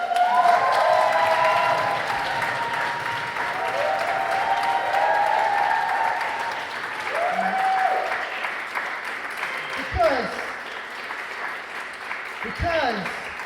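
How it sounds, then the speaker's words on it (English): Applause and cheering from the audience at a youth participation event, a long sustained wash of clapping with a few raised voices that fades gradually as speech returns. "massive round of applause"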